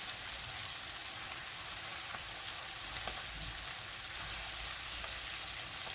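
Chicken breast pieces and peppers frying in a pan, a steady dense sizzle and crackle at low volume with occasional faint pops, continuous and without talk.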